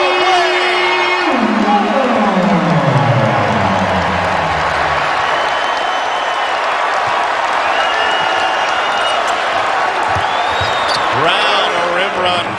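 Basketball arena crowd at a Wake Forest vs. Louisville college game roaring and cheering after a blindfolded three-pointer, a loud sustained swell of cheers and applause filling the hall, with sneaker squeaks and a commentator's voice running over it.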